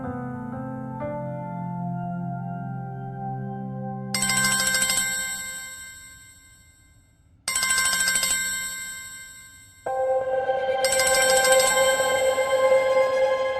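A mobile phone rings for an incoming call, a bright melodic ringtone that plays in repeated bursts with short pauses between them, close and clear with no voices.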